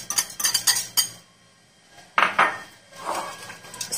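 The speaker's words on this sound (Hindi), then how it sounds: "इसको थोड़ा सा मिक्स कर लेंगे।" A metal spoon mixes cream in a bowl with quick clinking taps, then a pause, then louder scraping and clattering strokes against the bowl, close up with no talk.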